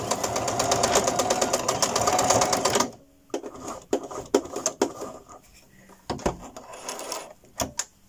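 A sewing machine stitches a seam on a duvet cover, running in a steady, dense burst for about three seconds, then in short, separate bursts with quiet gaps between them.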